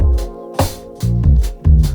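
Piano chords and a melody sit over a soft Rhodes and Prophet synth bed in a slow R&B beat, with several loud chord hits punctuated by bright percussive strikes, all close and full with no talking.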